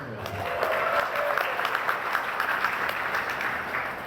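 An audience at a campus religious talk breaks into applause, a dense, even patter of many hands clapping steadily and fairly close for a few seconds.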